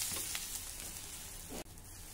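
Yedani batter sizzles in oil on a hot tawa, a steady, soft crackling hiss with a brief scrape or flip near the end.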